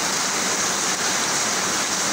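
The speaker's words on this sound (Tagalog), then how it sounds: "sobrang lakas ng ulan mga idol" Heavy rain pouring steadily outdoors over a vegetable garden, a dense, continuous hiss that stays loud and even throughout with no talk.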